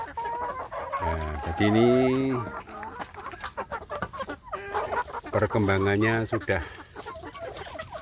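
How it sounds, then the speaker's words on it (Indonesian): Native village chicken chicks clucking and calling for more food after their leftover rice runs out, two loud bursts of calls while someone talks in between. "anak ayam kampung saya ini mau minta lagi ya"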